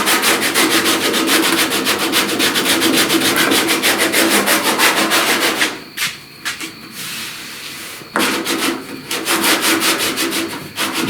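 Hand sanding of body filler on a truck cab corner repair, loud rapid back-and-forth rasping strokes for about six seconds, a brief pause with a few scrapes, then the steady rubbing resumes up close.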